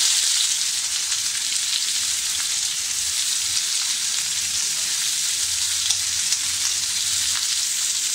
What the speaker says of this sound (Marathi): आता आपण हा कांदा टाकूया.